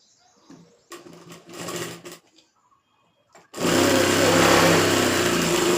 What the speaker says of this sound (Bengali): সেলাই করে নেওয়ার পরে এর উপর দিয়ে এটাকে আমি চাপ সেলাই দিয়ে নেব এইভাবে